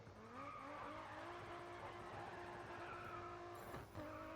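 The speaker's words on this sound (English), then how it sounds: "I wonder if the judges will appreciate my use of the e-brake drift." Handbrake drift in GRID Autosport, a car engine droning steadily with long, sustained tire squeals over it and a brief shift near the end, faint in level.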